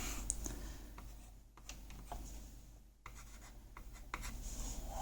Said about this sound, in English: So what we're going to do next, we're going to draw a graph.